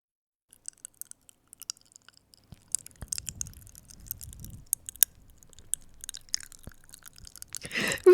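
Fizzy popping candy crackling in the mouth, a scatter of tiny sharp pops and clicks, sparse at first then denser, close and quiet with soft crunching.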